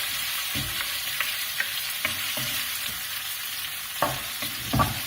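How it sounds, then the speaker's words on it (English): Finely cut shallots fry and sizzle in a hot pan, a steady broadband crackle with a few sharper pops and stirring knocks, close and alone with no voices. "So I'm just going to add the onions in now."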